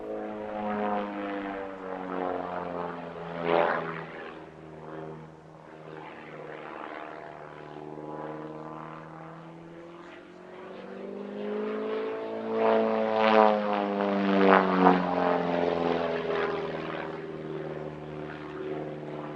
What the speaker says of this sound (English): This is a Pitts S1S, the standard factory-built single-seater powered by a 180 horsepower Lycoming IO360.